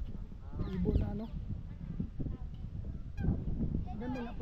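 Geese honk loudly at Kew Gardens in London, with several nasal calls in two clustered bursts over outdoor background noise.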